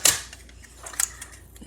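A die-cutting machine working through card stock, giving a sharp crack at the start and then a few scattered clicks and snaps, close and fairly quiet, with no voices.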